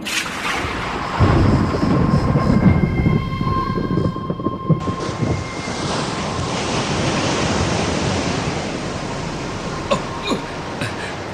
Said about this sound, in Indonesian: Guncangan air semakin kencang.